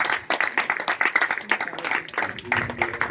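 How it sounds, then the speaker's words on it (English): A debate audience claps steadily for a few seconds, a dense patter of hands with a voice briefly audible underneath. "Clap well, please."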